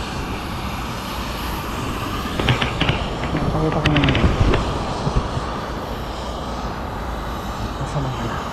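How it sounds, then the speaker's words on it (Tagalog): Jet planes at Seletar Airport, Singapore, at night make a steady broad roaring hum throughout, moderately loud and distant, as a person speaks briefly over it. "Ito po yung mga jet plane."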